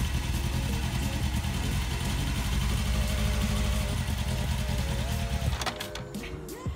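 A manual-transmission car engine runs close by, its steady low drone shifting in pitch as the driver works the clutch and throttle, with a brief rev and change near the end and faint voices underneath.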